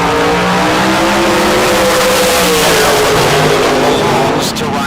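Dragsters launch at a bracket drag race with a loud, sustained roar of engines that fills the whole stretch, while an announcer talks over it.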